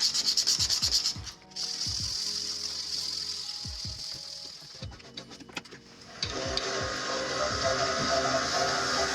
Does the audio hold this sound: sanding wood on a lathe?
yes